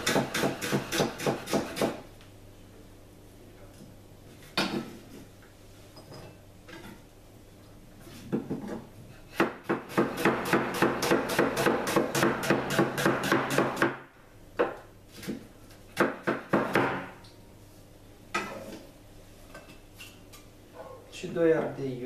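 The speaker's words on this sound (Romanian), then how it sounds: "Pun și acolo roșie, pe care o tai fin." A knife chops tomato finely on a board in fast, rhythmic bursts of close taps, alternating with stretches of speech in a home kitchen.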